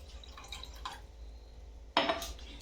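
Water is poured into a glass in a quiet room: a few faint drips and small clinks, then a short, bright splash of liquid near the end, close and brief.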